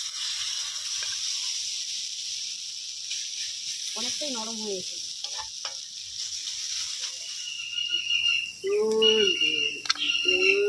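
Teasel gourd (kakrol) fries in oil in a pan with a soft, steady sizzle, while a person speaks briefly near the end over the frying.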